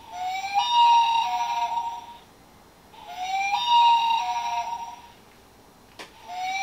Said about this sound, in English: This is called a loon, and it sounds like this.